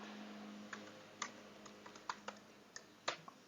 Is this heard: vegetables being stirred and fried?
no